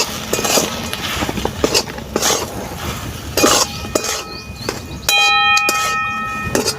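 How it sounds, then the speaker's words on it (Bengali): A metal spatula clinks and scrapes against a pan as potatoes with turmeric and cumin powder are stirred and dry-fried without oil, giving loud, irregular knocks close by over a rough background. "নাড়াচাড়া করে আলুটাকে একটু ভালো করে ভেজে নেব।"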